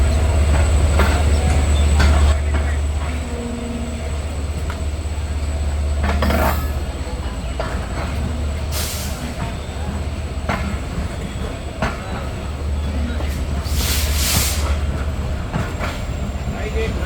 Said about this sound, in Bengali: ট্রেনটি ছেড়ে যাচ্ছে তার প্রথম যাত্রাবিরতি station Abdulpur junction railway station